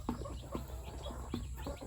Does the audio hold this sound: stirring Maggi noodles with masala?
no